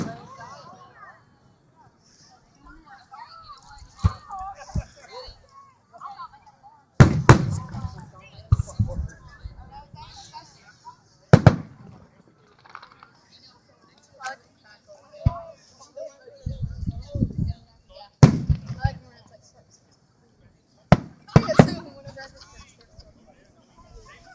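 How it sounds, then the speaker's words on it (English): Sharp fireworks bangs burst at irregular intervals over the water at Dolphin Island, some loud and close, with people talking in between. "They have amazing fireworks."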